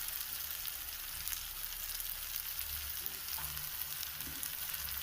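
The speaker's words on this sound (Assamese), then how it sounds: "এতিয়া মই ভালদৰে লৰাই দিম।" Spiced cauliflower curry fries steadily in a pan with coriander, cumin and chili powders, a soft continuous sizzle broken by a few faint scrapes of stirring, close and quiet, no voices.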